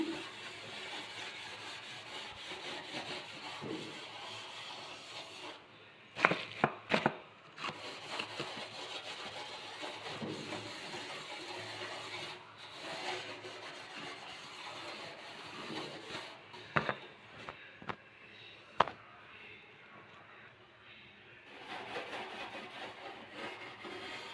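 A gas stove is scrubbed with Vim liquid soap, giving soft, steady rubbing strokes close by, broken by a few sharper scrapes and knocks against the metal, with short pauses between scrubbing bouts.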